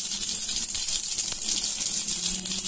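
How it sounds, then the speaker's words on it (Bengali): Whole cumin seeds drop into hot oil and sizzle with a steady, loud hiss for a couple of seconds before the cloves and cardamom go in. "আমার তেলটা গরম হয়ে আসছে, আমি এখন আস্ত গোটা জিরাটা ছেড়ে দিচ্ছি"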